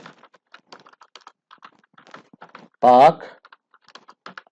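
Light, scattered clicks of a computer keyboard as text is entered into an Excel spreadsheet, with one short spoken word partway through.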